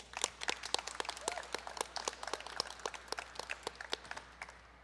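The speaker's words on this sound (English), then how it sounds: "Can we please give Commissioner Ewan Barker Plummer a round of applause?" A small group claps for a departing youth commissioner at a farewell ceremony, with sparse, uneven individual claps that sound quiet and fairly distant, no voices over them.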